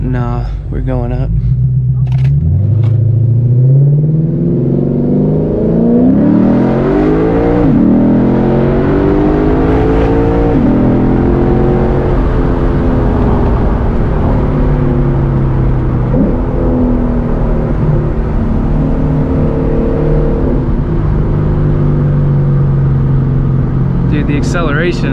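A straight-piped 5.0L V8 Lexus with a single-clutch transmission accelerates hard uphill on a mountain road, a deep, rising roar that swells and holds loud for most of the stretch, rumbling close by with a rough, throaty edge.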